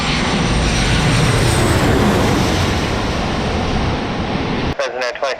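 Airliner jet engines roar at San Diego Airport, a loud, steady broadband rumble and whoosh filling most of the stretch before cutting off abruptly near the end.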